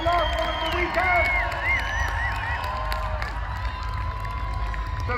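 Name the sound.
crowd cheering for parachute jumpers at Bristol Balloon Fiesta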